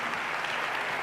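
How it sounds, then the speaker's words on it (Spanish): An audience at the inauguration of an association applauds Manu with a brief burst of dense, even clapping, filling the whole moment without pause. "Un aplauso para Manu."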